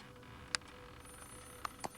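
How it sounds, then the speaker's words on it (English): A telephone rings inside a horror video game, heard as a few short, faint electronic chirps at spaced intervals over a quiet ambient hum. "that phone's going off"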